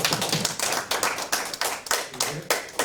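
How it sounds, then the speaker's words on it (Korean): Audience in a church hall applauding during a theology conference worship service, with loud, steady rhythmic clapping that pulses about twice a second in unison, close and continuous. "뒤에 계신 박수 한번 쳐주세요."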